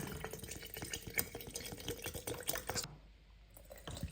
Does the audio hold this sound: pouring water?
yes